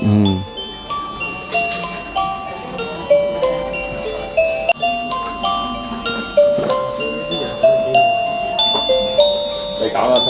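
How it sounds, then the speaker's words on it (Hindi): A toy plays a tinkling, bell-like tune of bright repeated chimes, each note ringing out in a steady rhythm, with faint background noise. "ये बटन ऑन करते ही ये घंटी बजाएगा।"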